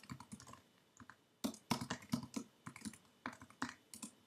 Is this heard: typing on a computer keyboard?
yes